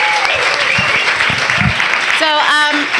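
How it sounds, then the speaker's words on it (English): Audience applause for comedian Betsy Salkind at an atheist group's event, dense steady clapping throughout with a voice and brief tones rising over it near the end. "So please give a round of applause for Betsy and also Tiana."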